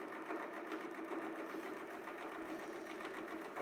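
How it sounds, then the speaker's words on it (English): A sewing machine with grips and a foot stitches down a quilt on a Westalee flying triangle template, running as a steady, continuous mechanical hum with a fast needle rhythm throughout, close and moderately loud, no talking. "start your gas, and you'll just be sewing down"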